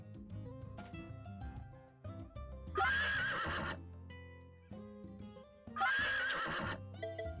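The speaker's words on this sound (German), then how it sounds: "aber das Pferd ist wach." A horse neighing in the Switch farm game Story of Seasons: A Wonderful Life, two loud whinnies about three seconds apart, each about a second long, over soft background music.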